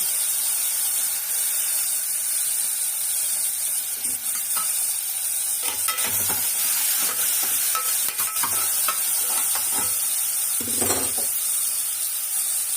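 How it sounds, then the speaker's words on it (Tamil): Tomatoes sauté in a hot pan with a steady, close sizzle and hiss, broken by intermittent scraping stirs of a spoon, with no one speaking. "தக்காளி கொஞ்சம் நல்லா வதங்கட்டும்"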